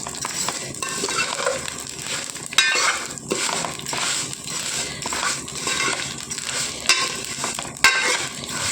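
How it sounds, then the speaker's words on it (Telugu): Vermicelli frying in hot ghee while being stirred in a pan for chicken biryani, a steady close sizzle with scraping spoon strokes and occasional knocks against the pan, no talking. "నెయ్యిలో ఈ సేమియా అనేవి దోరగా ఫ్రై చేసుకోవాలి."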